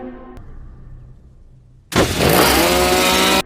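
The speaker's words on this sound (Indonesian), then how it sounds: "gergaji mesin itu hidup dengan sendirinya" A chainsaw roars to life on its own in a horror film, a sudden loud, sustained buzzing engine snarl after a quiet, eerie stretch.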